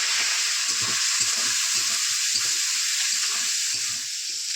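Prawns with onion and green chilli sizzle hard in a hot wok as a loud, steady hiss, with rhythmic stirring scrapes running through it.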